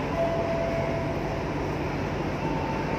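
Steady broadband rumble inside a moving Pramex commuter train in Indonesia, continuous and unbroken, with a faint tonal whine running through the low drone and no talking.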